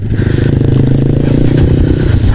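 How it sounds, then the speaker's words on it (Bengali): A motorcycle engine running steadily after being started on a mountain road in Sikkim, a loud close rhythmic idle thrum with a little mechanical clatter and no voices. "আমি এতক্ষণে স্টার্ট দিলাম বাইক"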